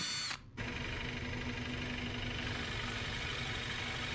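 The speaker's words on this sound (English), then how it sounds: "I'm going to use the Forstner bit on both sides of this piece of wood so that we don't tear out any edges." A drill with a Forstner bit boring a hole in a piece of wood, a steady loud motor whine that cuts out briefly at the start and then runs continuously.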